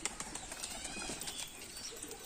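Pigeons, mostly Giribaz with a few Madras and Lotan, flutter and shuffle nearby in a busy, continuous wash of wing flaps and faint coos, with no talking.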